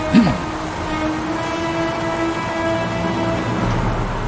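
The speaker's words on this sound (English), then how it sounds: "Does it ever stop raining?" Rain falling in the video game Heavy Rain, a steady wash of rainfall on surfaces with a low rumbling hum underneath, continuous and moderately loud throughout.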